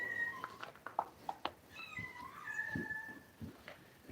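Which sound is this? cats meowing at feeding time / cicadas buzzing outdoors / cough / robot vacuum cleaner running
cats meowing at feeding time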